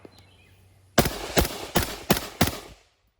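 Five suppressed rifle shots fired with 5.56 ammunition through a Griffin Armament suppressor setup, loud and close, in a quick evenly spaced string about 0.4 seconds apart, then silence.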